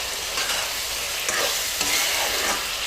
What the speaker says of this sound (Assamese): দিয়াৰ পিছত মাংসখিনি লৰাই দিছোঁ।